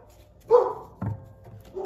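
A dog gives two short barks, soft and somewhat distant, separated by a brief pause, with a faint third yelp near the end over a quiet indoor background.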